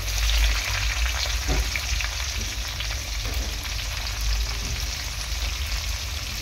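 Chopped ginger and garlic go into very hot oil for chilli chicken, giving a loud, continuous, dense frying sizzle that holds steady from start to finish.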